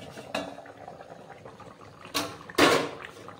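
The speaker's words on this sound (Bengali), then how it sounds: "দেখুন মটনে সুন্দর ফুট এসে গেছে" Mutton curry bubbling in an uncovered pot over a high flame, a soft steady simmer broken by a few sharp clatters of the lid and utensils against the metal pot, with one loud burst near the end.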